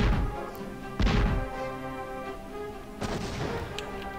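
Explosions in the Superman video game for Nintendo 64, two sharp booming blasts about two seconds apart, each hitting hard and then rumbling away, with game background tones running underneath.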